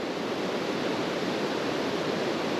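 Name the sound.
Stevens Creek flowing over a rocky riverbed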